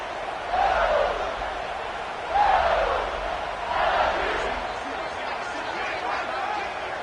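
Loud college basketball crowd yelling and screaming in swelling waves, with a commentator talking over the roar throughout.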